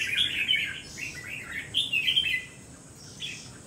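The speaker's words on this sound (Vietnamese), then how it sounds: "Chim sổ giọng cực kỳ gắt." A caged red-whiskered bulbul from Cao Bằng sings in harsh, clipped bursts of chirps and rasping phrases, close and clear, with short pauses between phrases in a quiet setting.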